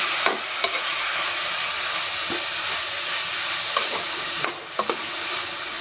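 Coconut laddu mixture stirred in a pan over a low gas flame, a soft continuous sizzle with a few light scrapes and taps of the spoon, close and fairly quiet.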